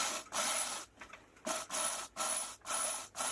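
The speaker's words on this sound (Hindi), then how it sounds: "ड्रिल मशीन से हम यहाँ पर होल करने वाले" Electric drill boring a hole into a clay pot, grinding and rasping in several bursts separated by brief pauses, fairly close and alone without talk.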